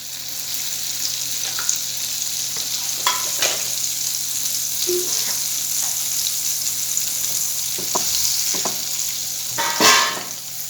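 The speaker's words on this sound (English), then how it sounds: "Here I have pan which is hot. Now we'll add the butter." Butter melting and sizzling in a hot pan for butter garlic fried chicken, a steady close crackling hiss lasting throughout with a few scrapes and a brief louder burst near the end, no voices.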